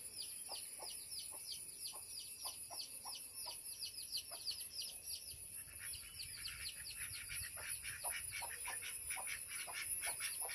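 Duck chicks call around a domestic duck, giving rapid, repeated high chirps in steady bursts throughout, fairly faint over a hiss of background noise.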